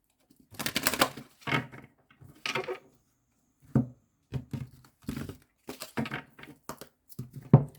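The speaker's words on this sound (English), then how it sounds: "1 more shuffle." Tarot cards shuffle in short, separate bursts of papery riffling and light taps, close and fairly loud, with brief silences between them.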